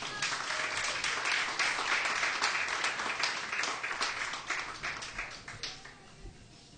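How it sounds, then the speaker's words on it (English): An audience at an Irish music awards show claps for a staff sergeant of the United States Army, a dense crowd of clapping that holds steady and then thins out toward the end. "Give him a nice round of applause."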